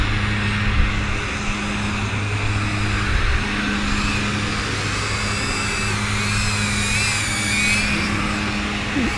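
Geelang Anger 75x whoop drone on 1202 motors flying close by, a continuous high whine with wavering pitch as the throttle changes, loud and steady throughout.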